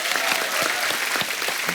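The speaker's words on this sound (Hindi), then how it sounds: "इस बात पे भी तालियां बनती हैं।" Studio audience at a televised Indian comedy talk show breaks into steady, full applause, a continuous wash of many hands clapping at close range with no talk over it.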